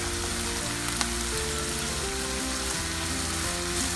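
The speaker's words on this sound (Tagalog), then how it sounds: "Ayan, igigisa lang po natin." Onion and garlic sizzle in hot oil in a pan, a loud, dense, steady frying hiss that continues without a break, with no voices.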